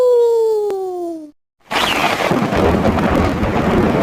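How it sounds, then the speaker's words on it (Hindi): Rain pours steadily in a cartoon jungle, a dense continuous hiss that begins suddenly after a short descending tonal sweep and a brief silence. "जंगल में अभी बारिश शुरू है।"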